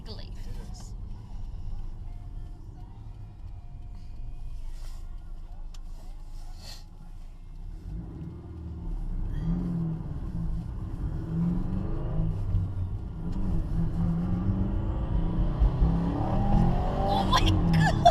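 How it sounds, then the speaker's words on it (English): A Subaru Forester on a test drive accelerates with a rumbling engine that swells into a louder, rising rev from inside the cabin, with people talking over it. "We're test driving the Subaru."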